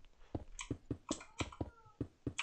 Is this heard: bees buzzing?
no